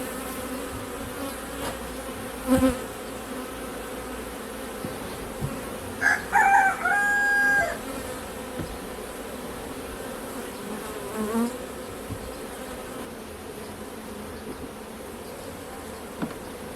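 A steady, low drone of many bees buzzing fills the whole stretch, with a brief rooster-like call and a few faint clicks partway through.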